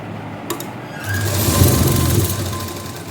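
A sewing machine stitching a seam along a salwar cuff being finished with lace: a couple of small clicks, then a steady whirring run of a second or so that fades out.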